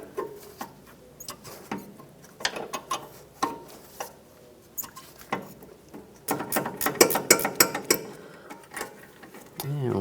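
A wrench turns a sway bar link nut on a 1997-2001 Honda CR-V, making quick ratcheting clicks in bursts that come close and fairly quiet, with occasional speech between them.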